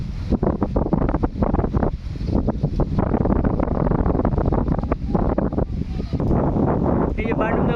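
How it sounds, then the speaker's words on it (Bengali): Strong wind over rural Bengal paddy country, beside a kadam tree, roars and buffets the microphone in heavy gusts, with people talking underneath. "বিশাল হাওয়া তো আজকে"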